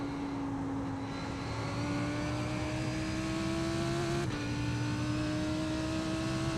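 A car engine runs steadily close by, its tone rising slowly as it revs, with a brief shift midway and no voices.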